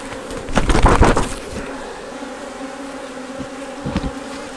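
Honey bees being shaken off a hive frame during a hive inspection in Fort Cobb, western Oklahoma: a dense, loud swarm buzz close up, with a thumping surge early on, then a steady hum and another brief thump.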